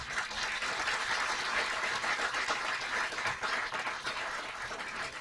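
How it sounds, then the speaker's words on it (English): An audience applauds at a mayor's press briefing, a continuous, moderately loud round of clapping that holds steady and tapers slightly near the end. "Let's give him a round of applause."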